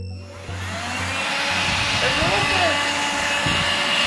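A new household vacuum cleaner runs with a steady, airy whine and low motor drone, close and continuous, with a few faint knocks as it is handled.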